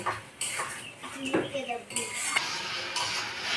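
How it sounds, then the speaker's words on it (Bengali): Spice paste with ginger paste sautéed and stirred in a pan for five-spice chicken, a metal spoon scraping and clinking against the pan in close, busy strokes over a faint sizzle, with no voice. "এবার আমি ভালো ভালো করে মশলাটাকে কষে নেব"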